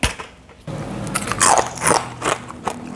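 Crisp bites into crunchy fried Indonesian kerupuk crackers flavored with shallot and garlic, a few sharp close crunches followed by brief chewing crackle, loud and alone.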